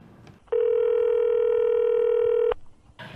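A steady telephone tone sounds loudly for about two seconds and then cuts off, with faint room noise before and after.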